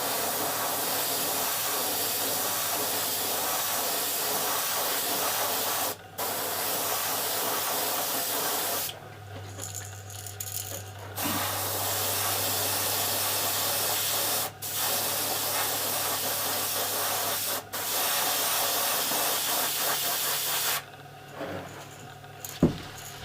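An airbrush sprays white pearl paint in long, continuous hissing bursts broken by brief pauses, close and steady throughout.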